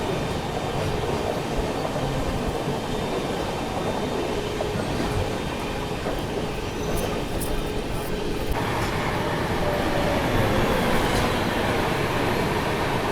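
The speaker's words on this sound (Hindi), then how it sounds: "तो सामने से ये क्रॉस हो रही है केरला एक्सप्रेस त्रिवेंद्रम न्यू दिल्ली।" Kerala Express (Trivandrum–New Delhi) passing on the opposite track, a steady loud rolling rumble and wheel clatter heard from a moving train, continuous throughout with a faint squeal near the end.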